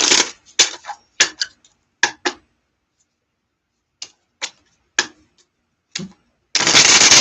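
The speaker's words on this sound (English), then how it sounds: "Super shuffling these cards because I have cards" Quick bursts of tarot card shuffling, several short riffling clatters separated by pauses, ending in a longer continuous rustling flutter, close by.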